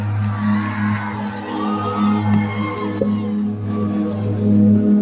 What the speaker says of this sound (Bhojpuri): एगो ताली बजा के आशीर्वाद दीजिए